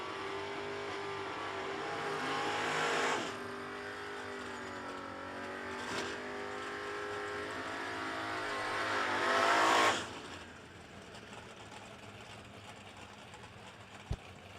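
Drag race cars at a no-delay nationals event, including James Robinson's Camaro, accelerate hard down the strip, with rising engine harmonics that build and peak around ten seconds before cutting off into quieter ambience.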